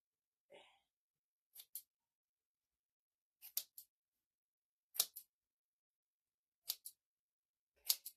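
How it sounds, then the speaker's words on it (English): Fabric scissors snip through cloth in crisp, quiet double clicks, about five pairs spaced a second or more apart against a silent background. "My fabric scissors will be a better cutting implement."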